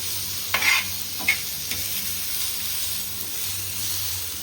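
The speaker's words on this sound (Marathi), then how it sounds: "हे सर्व आपण वाटण भाजून घेणार आहोत" Ground masala paste roasts in a pan with a continuous soft sizzle and hiss, broken by a few brief scraping stirs near the start, close and moderately loud with no talking.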